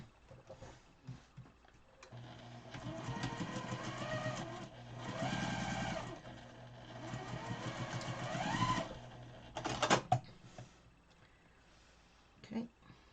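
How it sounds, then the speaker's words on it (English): A sewing machine stitches a scant quarter-inch seam on a quilt block, whirring in several short runs with brief pauses, close and moderately quiet, with a few handling clicks at the end. "Then you're going to sew a scant 1/4 inch."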